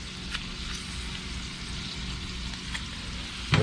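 Butter melting in a pan with lemon juice gives off a steady, soft sizzle and crackle throughout, with a brief clatter near the end.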